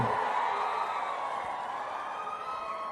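A large rally crowd at an election speech in Sangli cheers in a steady, sustained roar of voices and whoops, with a shrill tonal wail running through it and no distinct claps standing out.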